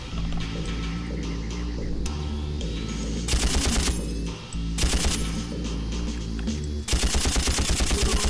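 Bursts of rapid automatic gunfire from an unusual gun in the Far Cry video game, several loud rattling volleys separated by short pauses over a low game background.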